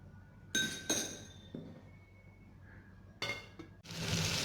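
A metal lid is set down on a cooking pot, giving a few bright clinks and clattering contacts, with a longer rattling settle near the end.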